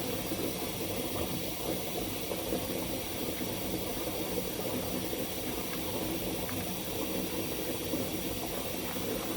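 Hot water runs steadily into a basin used for decontaminating soiled instruments, a continuous close-up rushing and splashing hiss with no pauses and no talk.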